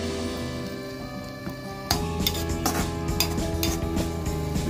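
Garlic and ginger-garlic paste fries in a pan with a soft steady sizzle, joined by clinking and scraping of a utensil stirring against the pan, with sharper metallic taps in the second half.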